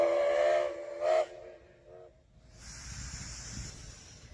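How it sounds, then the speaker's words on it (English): A steam locomotive on the Oregon Coast Scenic Railroad gives short whistle blasts as it departs Garibaldi, followed by a soft steam hiss, heard at moderate distance. "the sights and sounds of a steam locomotive heading out of town to begin a day's work"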